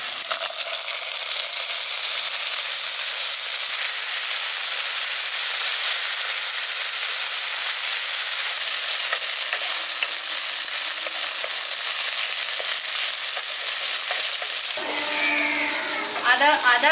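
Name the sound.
ginger and cumin paste frying with papaya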